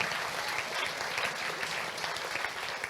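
Steady, dense applause from an audience honouring the organizers at the Note sul Lago 2023 event, continuous and even across the whole stretch with no voices rising above it.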